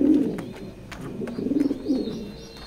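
Black pied pigeons coo in low, throaty bursts close by, several rolling calls with short pauses between them and no talk over them.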